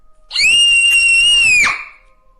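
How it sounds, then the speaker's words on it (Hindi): A woman's single loud, sustained high-pitched scream of fright in a horror story audio drama, lasting over a second before cutting off sharply, heard alone. "इतने में ही किसी ने उसके कंधे पर हाथ रखा, जिससे शालिनी डर कर चीख पड़ी।"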